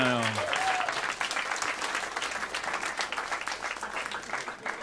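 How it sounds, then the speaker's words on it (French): Audience applause fills a comedy club after a short spoken bit at the start, a dense, steady clatter of many hands that holds for several seconds and then thins slightly. "Ça mérite une main d'applaudissement."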